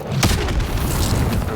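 A heavy naval bombardment blast in Call of Duty: Modern Warfare 2 Campaign Remastered, one loud booming impact followed by a dense, sustained rumble.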